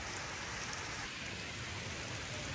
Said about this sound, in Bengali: ক্যানেল ক্রুজিং করে জঙ্গল থেকে আসার পরে শুরু হয় মুষলধারে বৃষ্টি।